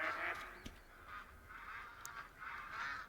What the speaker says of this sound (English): Oh, it's all those ducks.